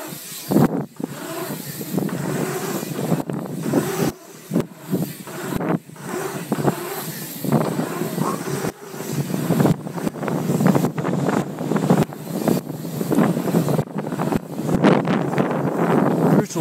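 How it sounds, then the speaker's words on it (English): Steady roaring wind buffeting a Rylo 360 camera's microphone during a ride into a headwind, loud and continuous with gusty surges and no talking. "Headwind."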